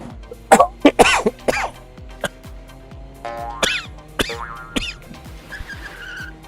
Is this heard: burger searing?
no